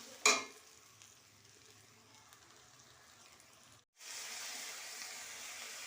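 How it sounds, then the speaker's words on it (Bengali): Ginger, garlic and onion paste sizzles and spits steadily in hot oil in a pan while being fried down for a katla fish curry, briefly cutting out near the end before returning louder and fuller. "এবারে আদা রসুন পেঁয়াজ একসাথে বেটেছি, দিয়ে কষে নেব।"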